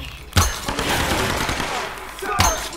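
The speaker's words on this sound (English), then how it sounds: "He's got a machine gun." Rapid machine-gun bursts from the Tomb Raider video game, loud broadband rattling fire with sharp onsets near the start and end, heard with faint background voices.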